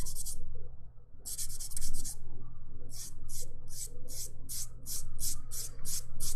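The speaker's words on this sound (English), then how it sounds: "just give that a nice light buff" Dip powder manicure nail being lightly buffed with a buffing block, a series of quick close rubbing strokes, first a few longer passes and then a rapid even run of short strokes.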